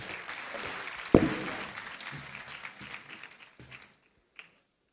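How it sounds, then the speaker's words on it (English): An audience applauds at a Supreme Court 150th anniversary event at Manhyia Palace, a crowd clapping after a performance by a school justice club. A brief sharp burst rises, then dwindles into scattered claps, fading to near silence with one late clap. "Please, a round of applause for them."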